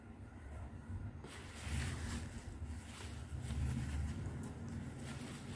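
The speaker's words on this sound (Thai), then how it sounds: "ลมพัด" Wind gusting outdoors before rain, a steady low rumble of buffeting air against the microphone that swells in the middle and again later, with no talking.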